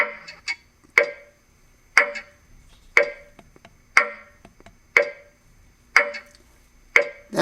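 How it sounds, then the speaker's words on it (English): A Roffie white noise machine plays a clock or metronome tick preset: a sharp, regular tick about once per second, each click with a brighter double-knock, close and clear with no talk. "That could be a metronome, not sure, or a clock."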